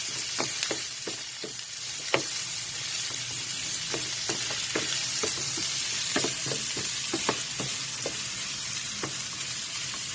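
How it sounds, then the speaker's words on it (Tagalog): Red and white onions with garlic sauté in olive oil before baby squid is added, a steady close sizzle broken by frequent sharp spatula clicks and scrapes against the pan, with no speech. "Just gonna saute this."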